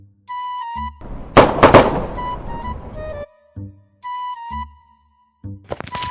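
Diwali firecrackers burst in a loud, close cluster of sharp cracks and a crackling spray around the middle, among stretches of tonal music-like sound and brief thumps, with little talk.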